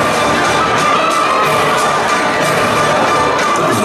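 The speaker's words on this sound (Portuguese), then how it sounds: "Recebam a partir deste momento com amizade e um forte aplauso para" Audience cheering and applause greet a singer at the opening of his show in the Salle Prince Henri, Walferdange, Luxembourg; a loud, dense, steady roar of clapping and shouting fills the whole stretch.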